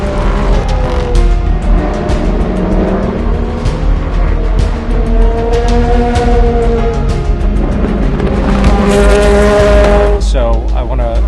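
Race cars at the start of a European Le Mans Series endurance race at Le Castellet, loud continuous engine roar with shifting pitch sweeps and overlapping cars, tyres squealing near the end, with speech over it.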